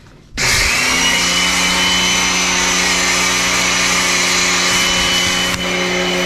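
A foam cannon, most likely driven by a pressure washer, starts abruptly and then roars loudly and steadily as it sprays Super Clean degreaser onto ATVs in cold weather, close by with no talking.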